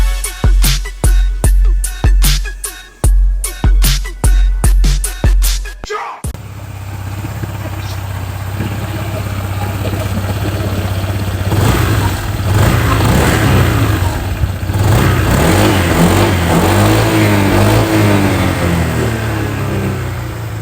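Honda ADV 160 scooter with a 157cc four-stroke, four-valve, liquid-cooled single-cam engine, first blipped in a rapid series of short rhythmic revs, then held at a loud, steady rising drone, close and alone.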